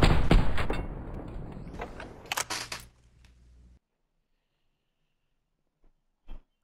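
Gunfire in a video game match sounds as a dense burst of sharp shots that fades over about three seconds, followed by near silence and a couple of faint distant pops.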